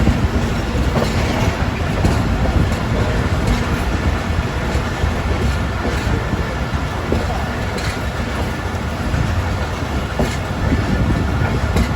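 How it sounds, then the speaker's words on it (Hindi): A Pakistani passenger express train, the Fareed Express on the main line near Landhi railway station, rumbles loudly and steadily on its rails, with a rapid clickety-clack of wheels over rail joints. "लांडी रेलवे स्टेशन पहुंच चुकी है हमारी ट्रेन।"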